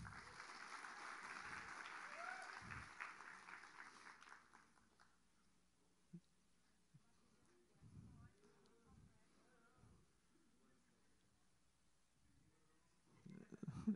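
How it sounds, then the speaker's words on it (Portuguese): A short round of audience applause at a WordPress conference talk fades out within a few seconds, followed by a quiet room with scattered soft thumps. "uma salva de palmas para o Max"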